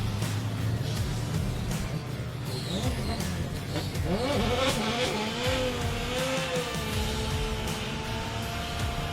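A drift car in qualifying at Meremere Drift Park, its engine revving through long throttle stabs with rising and falling pitch, tyres squealing as it slides, loud and continuous with crowd or commentary noise beneath.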